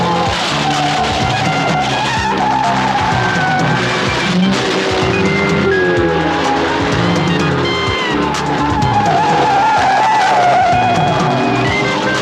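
Car tyres skid and squeal loudly as a vehicle pulls away in a comedy film scene, with engine roar and dense music or mixed soundtrack running steadily throughout, no speech.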